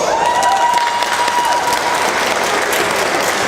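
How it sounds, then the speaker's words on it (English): A convention crowd at Comic Con Antwerp welcomes actor Tony Amendola to the stage with loud, close, sustained applause and some cheering throughout. "Can you guys applause?"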